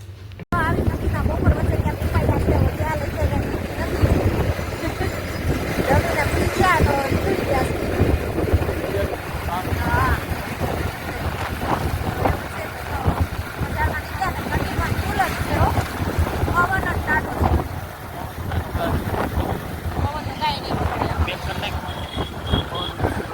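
Strong wind buffets the microphone with a steady roar while people talk intermittently nearby.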